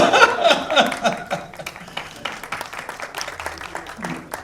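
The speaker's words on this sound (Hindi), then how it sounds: "एक बार जोरदार तालियां अम्बुज जी के लिए।" Applause for a guest called to the stage at a music album launch event, starting as a burst of clapping and chatter that thins into scattered claps with voices and laughter mixed in.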